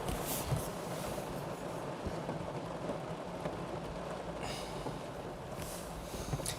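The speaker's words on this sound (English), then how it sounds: "That'll be the rain banging on the window." Heavy rain drums steadily against a window, a dense, continuous patter that stays close and even throughout with no talk over it.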